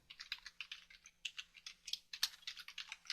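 Keys on a computer keyboard clatter in quick, uneven bursts while a parameter name is typed into design software, close and faint, with no talk.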